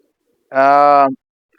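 One short, smooth coo from a domestic pigeon near its nest, close and clear, surrounded by near silence.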